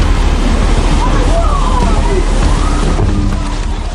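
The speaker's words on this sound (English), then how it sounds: "Wave is a good 15-20 feet tall." A tsunami wave sloshing and crashing, a loud, continuous roar of churning water filling the whole stretch.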